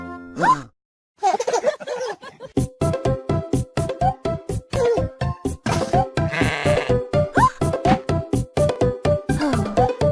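Sheep bleat in a quick, steady rhythmic series of near, loud calls, set against a children's nursery rhyme backdrop, with a brief vocal phrase before the bleats begin.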